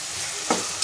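Vegetables and onion sautéing in a pan with a ginger, garlic, chilli and coriander paste, a brief hiss of frying with a couple of quick scraping stirs, no voices.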